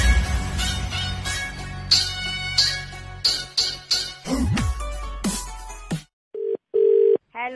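A telephone ringing: short, steady electronic tones in a few separate pulses at the end, following a loud stretch of music.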